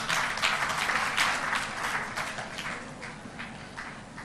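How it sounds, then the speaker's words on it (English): Applause from an audience at an international conference on holistic health as dignitaries and session chairs are felicitated on stage: dense, sustained clapping that slowly thins, heard at moderate distance with no talk over it. "A huge round of applause for our dignitaries."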